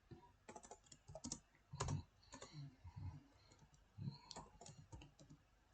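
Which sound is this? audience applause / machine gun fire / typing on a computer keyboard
typing on a computer keyboard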